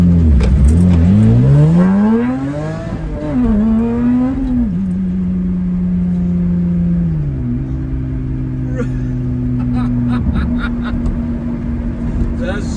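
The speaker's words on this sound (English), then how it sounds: "Okay, so we're going to do an acceleration test." A Lotus Exige 350 Sport sports car accelerates hard during an acceleration test, its engine note sweeping up through rising revs with a gear change, then settling into a steady high drone, loud and close.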